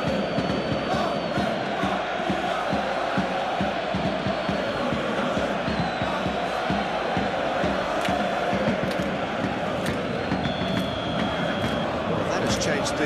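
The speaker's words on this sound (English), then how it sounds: "The crowd are calling for this to be put to bed." A stadium crowd in the PES 2021 football video game, during a PSG versus Dortmund Champions League semi-final, chants and roars in a dense, continuous wall of noise that never lets up.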